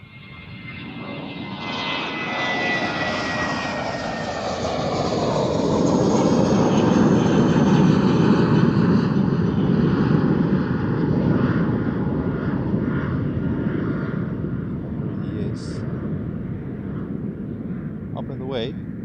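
Airliner departing Amsterdam Schiphol Airport, its jet engines roaring loudly as it climbs away, swelling to a peak and then slowly fading into a long, distant rumble.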